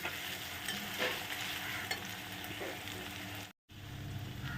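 Onions cook with salt in a pan for a village-style small fish dish, making a continuous close sizzle with soft stirring scrapes and one brief drop to silence near the end.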